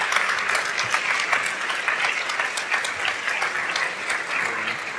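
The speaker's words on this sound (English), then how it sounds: "Please, a round welcome of applause for Steve Horvat." A large audience claps at an international longevity summit in Madrid, giving steady, full-bodied applause from many hands that stays loud and even across the whole stretch with no voices over it.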